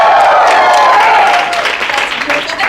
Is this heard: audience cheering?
yes